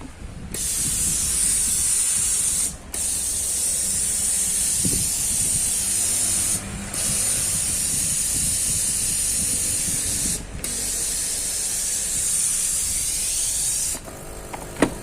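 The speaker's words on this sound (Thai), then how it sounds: "พอน้ำมันใกล้หมดปั๊มก็ทำงานนะครับ เสียงปั๊มทำงานนะครับ" A steady loud hiss of steam from a Philips steam iron with a separate boiler, its pump running underneath as the water runs low, broken by a few brief gaps, close up and continuous.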